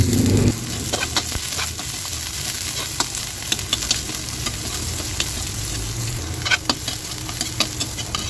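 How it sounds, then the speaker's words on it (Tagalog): Garlic and onion fry in hot oil for pork giniling with a loud, dense, continuous sizzle close by and occasional light clicks of stirring, with no one talking. "Init na guys yung ating mantika, kaya ilalagay na natin itong ating bawang. Lagay na rin natin guys yung ating sibuyas."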